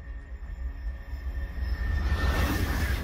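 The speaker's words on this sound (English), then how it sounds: "The Renfe Class 103 has 26 train sets that run between Madrid and Barcelona along its 621-kilometer track for high-speed rail." A Renfe Class 103 high-speed train on the Madrid–Barcelona line, heard as a steady low rumble of rail noise that swells louder and brighter toward the end as it draws near, with no voices.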